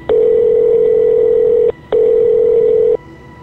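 A telephone rings late at night indoors: a loud, steady electronic tone in two long bursts with a brief gap between them, with no voices.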